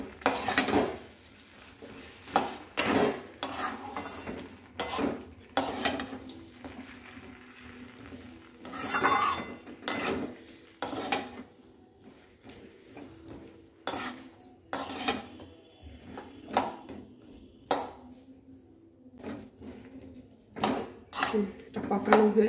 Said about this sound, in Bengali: এবার এতে আমি এই বাদামগুলো দিয়ে দিচ্ছি, দিয়ে পাকিয়ে নিচ্ছি।